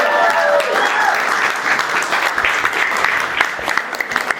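Wedding guests applauding a speaker, a sustained dense round of clapping from the room with some cheering and voices mixed in, fairly loud and continuing throughout.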